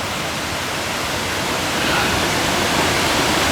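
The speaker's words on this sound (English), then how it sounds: "coming through there under the bridge, look at that wild torrent of water" Wild torrent of water rushing under a bridge near Dunans Castle in Scotland, a loud, steady roar of broadband noise that holds unbroken and swells slightly toward the end, heard alone with no voices.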